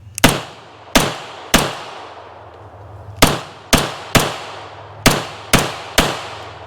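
Nine loud, crisp shots from a Beretta M9 92FS pistol with an Italian metal-baseplate magazine, the first fired double action, come in irregular groups with short echoing tails.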